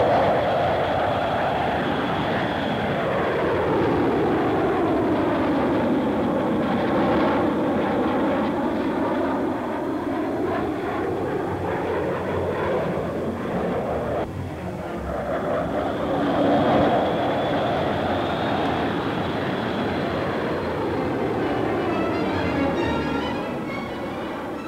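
Several RAF jets of the Black Arrows team roar past during an aerobatic formation display, a loud sustained rushing drone with shifting pitch sweeps as the aircraft pass and recede, continuous throughout.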